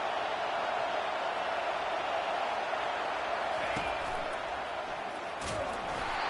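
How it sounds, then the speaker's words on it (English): A college football stadium crowd roars steadily as the home fans try to fire up their defense for a red zone stop, a dense, unbroken wall of noise with a few brief sharp knocks. "This crowd is trying to inspire this defense to make a big red zone stop."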